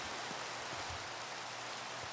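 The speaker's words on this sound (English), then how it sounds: "It's raining, of course." Rain in Minecraft hisses as a steady, even wash of falling drops that runs without a break, with no voices over it.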